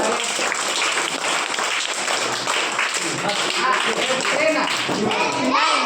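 A group of children clapping their hands in a classroom, a fast, uneven run of close, sharp claps with small voices mixed in underneath.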